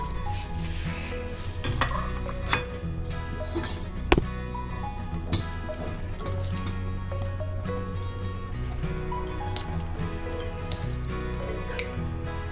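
Fried gulab jamuns go into warm sugar syrup in a pan, with soft stirring and sizzling plus occasional clinks of a spoon against the metal, steady and close.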